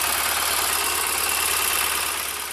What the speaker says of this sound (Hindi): गाड़ी स्टार्ट किया है, स्टार्ट करने से एकदम स्टार्ट ले लिया है गाड़ी। इंजन में थोड़ा स्मूथ है